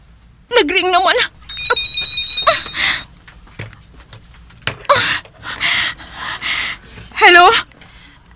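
A telephone rings in short trilling bursts, interrupted by loud, emotional voices speaking over and between the rings.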